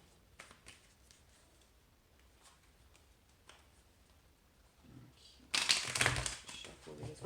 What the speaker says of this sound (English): Shuffle these quickly.